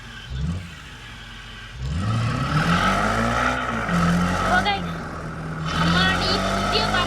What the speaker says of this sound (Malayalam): അമ്മാടി പുതിയ വണ്ടിയായിട്ട് പോവാണ്